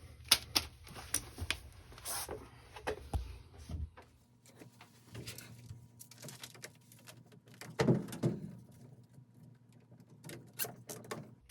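A zip tie is ratcheted tight to hold a condensate pump drain hose in place. Short bursts of close, quiet clicking rasps come in irregular clusters between pauses.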